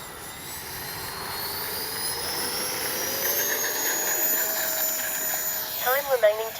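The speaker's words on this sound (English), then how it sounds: "Cyclone Power afterburner. It's a center burner too." A 64mm RC F-86 jet fitted with a Cyclone Power center-burner afterburner whines steadily and loudly, its pitch slowly climbing, with a few sharp surging pulses near the end.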